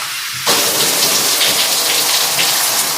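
Water gushing through a newly installed Aqua Bliss SF100 shower filter, starting abruptly as the tap opens and then running as a loud, steady, hissing spray.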